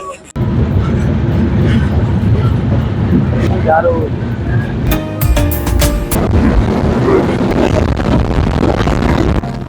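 A passenger train on the Dhaka to Panchagarh route runs at around 74 to 80 km/h through Pabna district. A steady, loud, broad rumble of wheels and carriage fills the whole span, with brief metallic ringing near the middle and faint voices underneath.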